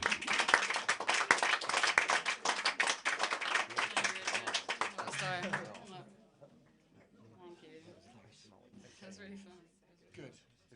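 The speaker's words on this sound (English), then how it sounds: "Give yourselves a round of applause" Live audience clapping at an intimate music venue, a dense burst of handclaps for about six seconds that then stops abruptly, leaving faint murmuring and quiet movement in the room.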